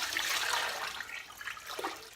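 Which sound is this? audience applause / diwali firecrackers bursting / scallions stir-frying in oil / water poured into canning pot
water poured into canning pot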